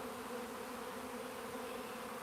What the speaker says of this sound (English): That's a ball of bees.